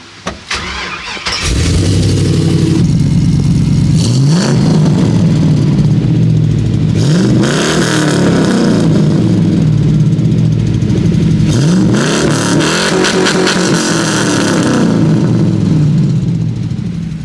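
A truck with a cheap LS engine swap cranks and fires up, then idles loud and close before several rising revs blip and fall back, with no talking over the engine.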